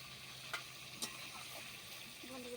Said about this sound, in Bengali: কষানো হচ্ছে এখানে মাংস।